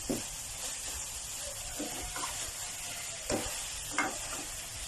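Tofu stir-fried with ginger in a pan: a steady close sizzle with repeated scraping and stirring strokes of a spatula, spaced knocks against the pan, no talk.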